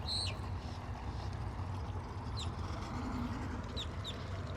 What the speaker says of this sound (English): Feeding the birds.